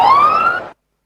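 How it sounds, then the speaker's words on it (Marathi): A siren wails at a local cricket tournament match, one loud rising electronic tone lasting under a second before cutting off abruptly, with no voices over it. "सायरन वाजलाय, पण या सायरनचा तितकं काही अर्थ नाही"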